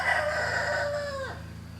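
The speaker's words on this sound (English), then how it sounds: "You heard the rooster." A homestead rooster crows once, loud and close, the call rising and then trailing off in a falling note, with a steady low hum underneath.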